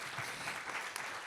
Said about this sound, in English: Let's give them another round of applause for the sharings